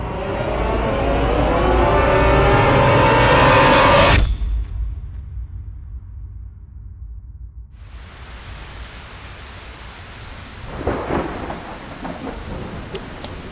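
A heavy rainstorm sound effect with rolling thunder roars loudly for about four seconds, cuts to near silence, then returns as softer steady rain with a faint rumble, used in a Bengali horror story.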